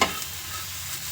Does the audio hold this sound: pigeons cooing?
no